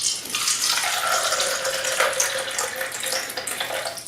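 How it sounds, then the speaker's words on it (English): Tap water running from a faucet into a container, a continuous hissing splash heard up close at moderate volume, steady for several seconds with no voices. "Okay, put it in the tap water."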